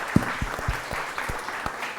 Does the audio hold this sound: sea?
no